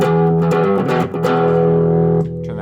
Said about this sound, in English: Maybe I want to add some distortion.